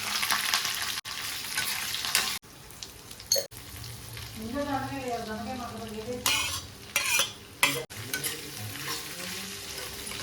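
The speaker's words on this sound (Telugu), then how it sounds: "ఇంక ఇప్పుడు దొండకాయ ఫ్రై చేసేయడమే పోపు వేసుకొని" Ivy gourd frying in a pan with tempering spices, a steady sizzle under repeated scraping stirs of a spatula against metal, with a brief wavering sound midway and no talk.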